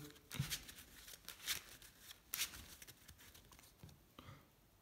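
Yu-Gi-Oh playing cards riffle and snap in a few quick, quiet bursts, with soft shuffling handling between them.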